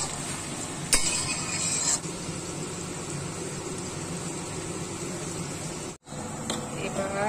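Raisins and cashews frying in oil in a pan, a steady soft sizzle with light stirring throughout, close and continuous, with a brief clatter near the start.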